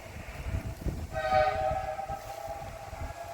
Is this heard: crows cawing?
no